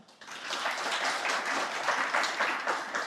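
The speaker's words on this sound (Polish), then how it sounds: "za to wielkie brawa" An audience at a school awards event bursts into steady applause, many hands clapping together in a dense, continuous wash that swells in quickly and holds at moderate volume.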